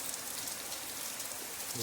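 Morning rain falls steadily as a soft, even hiss of drops on surfaces, faint and continuous throughout with no pauses.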